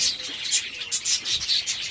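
Java sparrows kept for winter breeding chirp in quick, high, repeated bursts, close and continuous with no talking.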